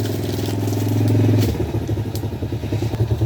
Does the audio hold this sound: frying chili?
no